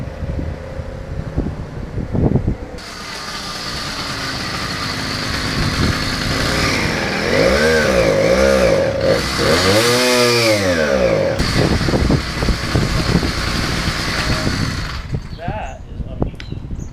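A small 80cc two-stroke engine on a motorized bicycle runs loud and close, revving up and down in buzzing surges over a steady drone, with a voice briefly talking near the start.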